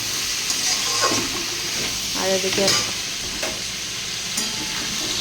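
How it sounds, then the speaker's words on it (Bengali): Mixed vegetables with shrimp stir-frying in a pan, a steady close sizzle with scraping stirs throughout, while someone speaks briefly. "সবজিগুলো আগে একটু ভাজা ভাজা হয়ে গেছে, এবারে দিলাম কষিয়ে আর জল দিয়ে দেবো।"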